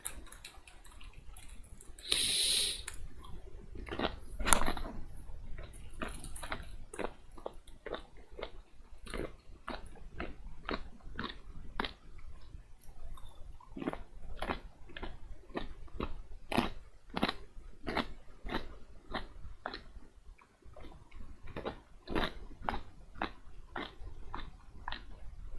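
Someone chews on food close to the microphone, making steady, rhythmic crunching and biting clicks that continue for the whole stretch without any talking.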